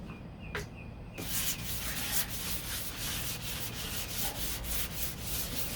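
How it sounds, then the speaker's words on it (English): Hand sanding on the fiberglass of a 1969 Corvette passenger door makes steady close-up rubbing strokes, a continuous rasping hiss that pulses with each pass, following a few quieter taps at the start. "So when you're sanding, you can feel it."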